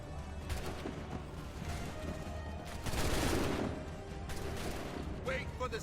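A musket volley in the Assassin's Creed 3 game, a burst of layered gunfire swelling near the middle of the clip amid battle noise, with voices faintly present.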